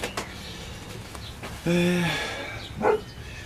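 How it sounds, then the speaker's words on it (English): A single dog bark, drawn-out and moderately loud, rises over quiet background noise, followed by a short second yelp. "Barking at nothing."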